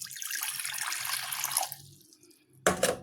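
Water poured into a cup for mixing with starch in a home kitchen, a steady splashing stream for about two seconds that trails off, then a short louder splash at the end.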